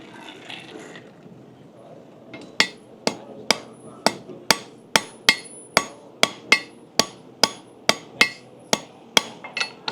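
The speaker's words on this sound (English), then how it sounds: "We're hammering it into each other." Blacksmith hammering steel hook to forge-weld it at a live demonstration, a rapid steady series of about sixteen sharp, ringing hammer blows on metal, close and loud, following a quieter stretch of low rumbling.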